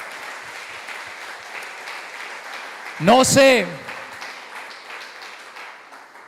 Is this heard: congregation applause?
yes